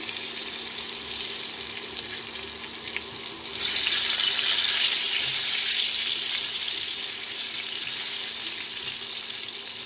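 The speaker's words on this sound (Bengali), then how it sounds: "দেখো বন্ধুরা, আলুগুলো ভাজা হয়ে এসেছে।" Cut potatoes fry in a pan with cumin seeds and a little salt, a steady hiss that swells suddenly louder a few seconds in and stays strong and close, with no voices.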